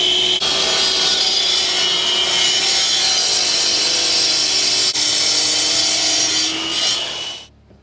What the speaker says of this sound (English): we're gonna take the saw and just cut this off